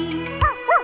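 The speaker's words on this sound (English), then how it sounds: "I had a little puppy." A cartoon-like puppy in a children's nursery rhyme gives two short, high yipping barks in quick succession over a sustained musical tone.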